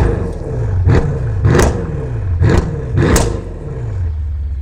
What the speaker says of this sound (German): Drück aufs Gas!